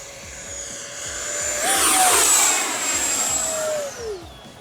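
A Freewing Mirage 80mm electric ducted-fan RC jet screams past in a fast flyby, a high whine that rises as it approaches, peaks loud overhead, then drops in pitch as it pulls away, with no voices.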